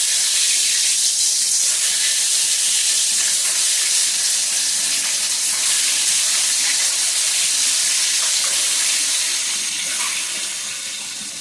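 Whole duck eggs fry in hot oil, a loud, steady, close hiss and crackle of sizzling that holds throughout and eases slightly at the end.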